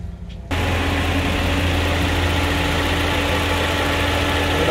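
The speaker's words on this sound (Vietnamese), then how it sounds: "Động cơ đang hoạt động." A 2016 Toyota Vios engine starts and settles into a loud, steady idle close by, a constant low hum with no talking over it.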